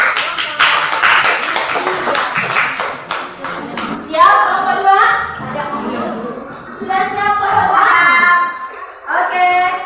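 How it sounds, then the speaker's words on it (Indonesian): A group claps hands together in a burst of close, busy applause lasting a couple of seconds, then gives way to talking and light chuckling. "Oke, tepuk tangan dulu."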